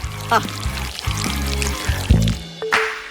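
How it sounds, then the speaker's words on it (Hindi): Honey pours into a bottle in a kitchen cooking challenge, a thick liquid glug and trickle with short bubbly bursts, fairly close and steady over a few seconds, with background music. "अब केवल बोतल में शहद डालना बचा है।"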